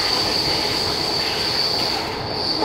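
A fast passenger train moves along the track with a steady, loud rolling roar and a continuous high-pitched wheel squeal running right through, heard from inside a carriage.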